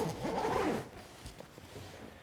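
A zipper on a Peak Design Travel Backpack 45L is pulled in one quick, close rasping run, then a few faint clicks and handling rustles as it settles.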